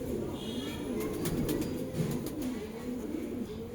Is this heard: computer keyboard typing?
no